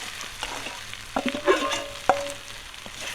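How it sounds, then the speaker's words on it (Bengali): Potato and boiled taro frying together in a pan, a low sizzle under several sharp metallic scrapes and clanks from a spatula turning the pieces. "বয়ে কচুটা একসঙ্গে ভেজে নেব।"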